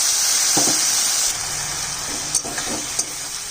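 Spice paste with garlic and turmeric fries in a pan for a prawn curry, a loud, steady sizzle and hiss with a few soft stirring scrapes and taps.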